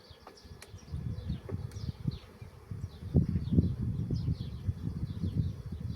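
Honeybees crowding a hive frame in an apiary during colony strengthening, giving a low, steady buzzing hum with occasional louder passes of nearby bees, and no talking.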